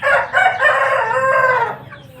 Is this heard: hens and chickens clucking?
yes